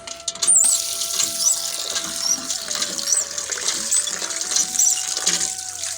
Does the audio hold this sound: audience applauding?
no